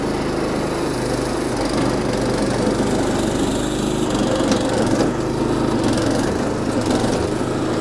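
A motorized garden tiller runs continuously as it churns through hard soil, its engine holding a loud, steady drone close by with a gritty rattle of earth under the blades.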